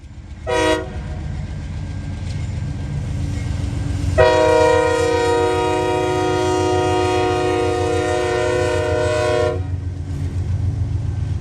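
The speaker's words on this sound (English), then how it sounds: "Leading the way is CSXT 7233, a CM44AC." A CSX freight train led by a CM44AC locomotive passes close by, its diesel rumble and rolling wheels steady throughout, with a short horn note early on and then a long, loud horn blast lasting several seconds.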